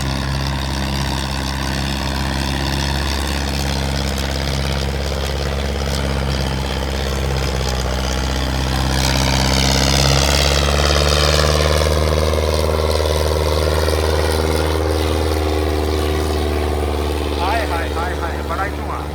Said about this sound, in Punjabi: ਲਓ ਦੋਸਤੋ 87 ਪ੍ਰੋ ਪਾਵਰ ਦਾ ਟਰੈਕਟਰ ਭੱਜ ਰਿਹਾ ਜੀ